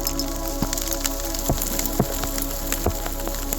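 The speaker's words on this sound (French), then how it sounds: "il y a de la grêle" Hail pelting down during a violent summer thunderstorm, a dense steady hiss with scattered sharper knocks of stones striking nearby surfaces, loud and continuous.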